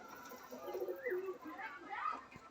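A pigeon from a Madrasi collection in a home breeding loft coos in low, rolling phrases, with people talking over it.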